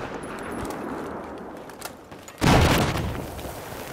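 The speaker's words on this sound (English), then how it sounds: "they are chucking grenades and stuff my way" Gunfire crackles through a Battlefield 4 firefight before a loud grenade blast erupts about two-thirds of the way in, a sudden broadband boom that lingers as rumbling debris noise.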